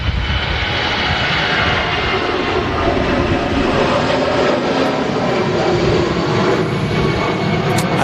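An EasyJet jet airliner departs Manchester Airport, a steady, loud engine roar holding throughout without a break, no voices over it.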